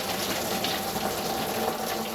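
Coolant from a 2000-2004 Dodge Dakota radiator pours steadily into a drain pan, a dense, continuous splashing gush that stays close and loud throughout.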